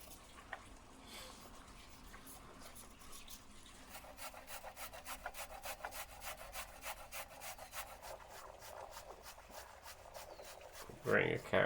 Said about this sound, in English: Grating a carrot.